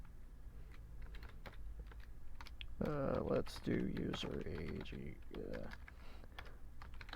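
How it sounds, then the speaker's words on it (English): Someone types quickly on a computer keyboard while writing code, a steady patter of close key clicks with bursts of faster strokes as a voice speaks briefly over it. "I'm typing everything wrong here."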